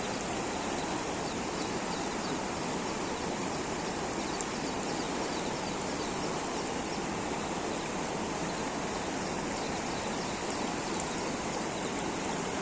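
River water rushes in a constant, dense, broadband flow, steady and close throughout with no voices.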